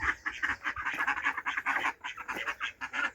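A trio of wild ducks quack close by in a farmyard setting, a run of rapid nasal calls in uneven bursts, with brief pauses between clusters.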